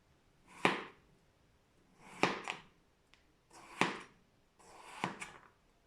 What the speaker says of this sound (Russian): Нарезаем картошку пластиками толщиной